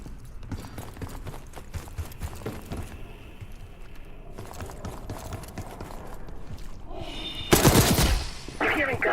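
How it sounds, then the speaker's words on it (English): Gunfire in the Call of Duty Black Ops 6 zombies map Emergence: dense rapid bursts of distant shots and mechanical clatter, swelling to a loud blast near the end. "You hearing gunfire?"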